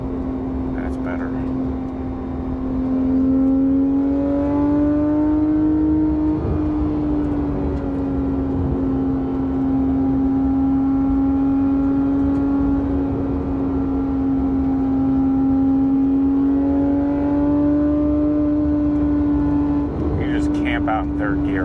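A Porsche 991.1 GT3 RS engine held high around 7,000 RPM in third gear on the Cherohala Skyway, a loud, sustained, steady wail with pitch sagging and rising as throttle shifts, and a voice speaking over it.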